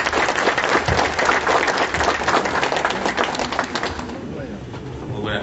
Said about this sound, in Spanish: Palmas, palmas.